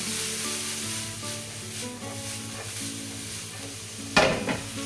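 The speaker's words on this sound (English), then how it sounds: "Now we'll let that sizzle through." A pan of prawn pasta cream sauce sizzles steadily with soft stirring scrapes, ending in a sharper clatter near the end.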